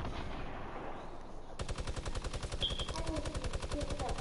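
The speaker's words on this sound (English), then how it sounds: "He's shooting grenade launchers over there." Rapid, evenly spaced explosive shots of grenade launcher fire in Fortnite, a steady loud burst of repeated blasts beginning abruptly after a brief quieter stretch of game ambience.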